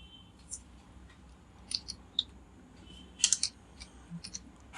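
Typing on a computer keyboard: a short, sparse run of close, crisp key clicks in small clusters against a quiet background, with no talking.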